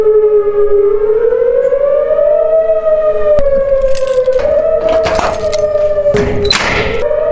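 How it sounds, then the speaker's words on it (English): Outdoor civil defense warning sirens in a Texas town, a loud continuous wailing tone that slowly rises and falls, with thumps and clatter nearby. "y'all are gonna have to forget the sirens"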